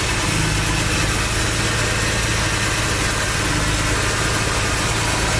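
A rebuilt V6 MerCruiser truck engine in a ski boat idles on its first start after the rebuild, a loud, steady, continuous rumble with even mechanical vibration heard close up throughout.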